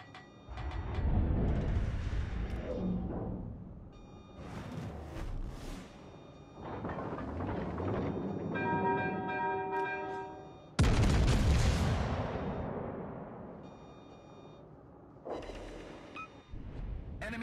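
Heavy naval guns firing from the battleship West Virginia in World of Warships: Legends, a series of deep booming salvos and rumbling blasts spread across the stretch, with whooshing shells and game tones in between and one especially loud close report midway.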